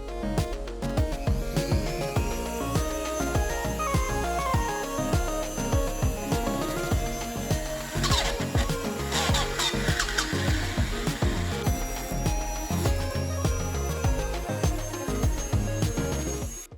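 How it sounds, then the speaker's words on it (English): A Dremel rotary tool with a coarse acrylic burr drills holes in acrylic panel for an arcade cabinet restoration, giving a continuous high whine with rattling, grinding bursts that rise and fall over several seconds. "Now I'm going to use my Dremel and this coarse acrylic burr to drill in all these holes in the acrylic"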